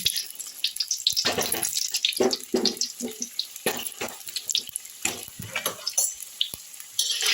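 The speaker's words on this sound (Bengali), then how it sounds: "দেখো আলুগুলো আমি তেলের মধ্যে দিয়ে দিলাম, এটাকে আমি খুব ভালো করে লাল করে ভেজে নেব।" Large potato pieces frying in hot oil for a chicken curry, a steady crackling sizzle broken by scraping stirs and knocks of a utensil, close and fairly loud with no talking.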